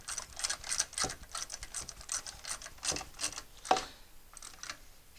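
A ratchet snugs bolts on a lawn mower engine with quick, close, irregular clicking bursts, fairly faint, with no talk over it.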